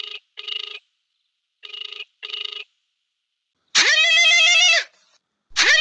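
Telephone ringing in a comic domestic scene, two short double-ring bursts with a pause between them, followed by a longer loud electronic tone, all close and clear with no talk.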